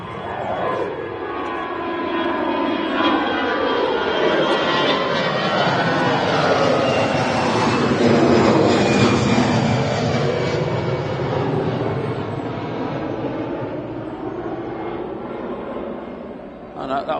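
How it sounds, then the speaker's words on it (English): An EasyJet airliner bound for Alicante climbs out from Manchester Airport, its broad engine roar swelling to a peak mid-way and then slowly fading as it recedes, with a voice talking over it. "So there's an EasyJet to Alicante."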